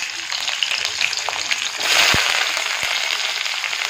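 Garlic and ginger frying in hot oil give off a bright, continuous sizzle that swells midway, with a few soft knocks of stirring.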